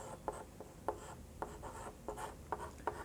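Chalk or marker writing an average on a board in a Hindi maths lesson, a run of short scratchy strokes and taps with small pauses, close and fairly quiet, no talking.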